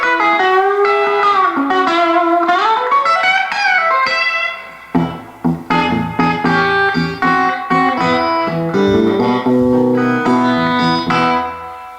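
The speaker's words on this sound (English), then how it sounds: "there it is, the monolith pickup through the deluxe reverb" Through a Fender Deluxe Reverb amp, an electric guitar with a Monolith pickup plays sliding, bending lead lines, then sharp staccato chord stabs and sustained chords, loud and close-miked with wide dynamics and no speech.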